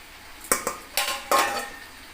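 Chicken being mixed with masala in a bowl for a biryani marinade, with four sharp clinks and knocks against the bowl in an uneven rhythm, close and fairly loud, and no talking.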